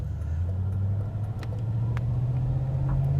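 A 1987 Chevrolet Monte Carlo SS aero coupe with a well-serviced 305 small-block V8 cruising, a steady low engine drone and road rumble from inside the car, rising slightly in pitch as it picks up speed.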